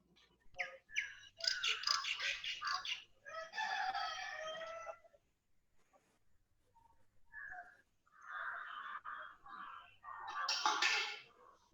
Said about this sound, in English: I heard the bird chirp 4 times.